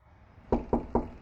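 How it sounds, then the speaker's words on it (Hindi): Three sharp knocks strike a door at even intervals, close and loud against a quiet night background, with no voices. "क्या हुआ आरुष, क्यों 2 बजे रात को दरवाजा ठोक रहे हो?"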